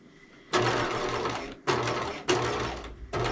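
A sewing machine stitching a short seam on trousers, running in three loud, steady bursts separated by brief pauses where the fabric is pivoted.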